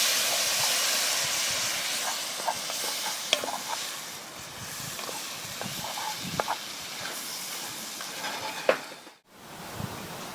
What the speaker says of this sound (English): we're going to deglaze the pan with some wine, just a cheap cooking wine